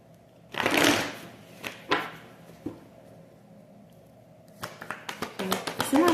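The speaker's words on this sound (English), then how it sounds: "One more shuffle." Cards are shuffled close up in quick riffling bursts, with scattered taps and a flurry of rapid shuffles toward the end.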